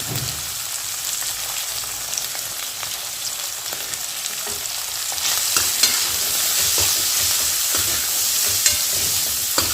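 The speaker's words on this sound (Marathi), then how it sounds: "आणि लसूण आणि आलं थोडंसं तेलात टाकून द्या आता हे सगळं छान भाजून घेऊया" Garlic, ginger and asafoetida sizzle in hot oil for a cabbage and pea bhaji, with a steady crackling hiss and occasional stirring scrapes that grow slightly louder partway through; no talking.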